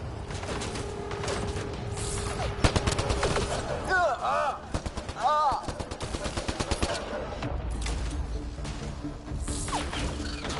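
Rapid bursts of weapon fire from a Mass Effect Andromeda combat encounter, dense volleys and single cracks with metallic impacts and crashes, loud and near, a shouting voice heard briefly amid the battle.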